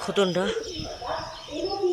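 A Delhi Baz khotan pigeon coos just after landing, low and close, partly under a person talking.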